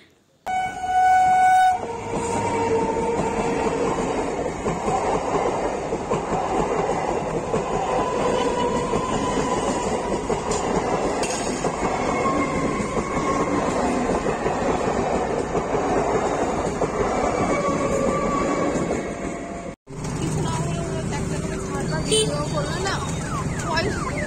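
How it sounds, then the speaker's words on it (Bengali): A train passes close by in North 24 Parganas in the evening, a loud continuous rumble and clatter of wheels on rails with horn-like tones early on, lasting through the clip before a brief cut. "এখন ট্রেন আসবে, ওই জন্য আমরা এখানে একটু দাঁড়িয়ে আছি।"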